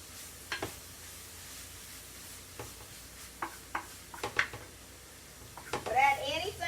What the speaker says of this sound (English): Go ahead and dump my cabbage in. It'll take it a little tiny bit to cook.